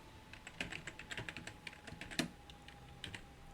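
Quiet clicking of a computer keyboard as a print command is typed, a quick irregular run of light keystrokes close by.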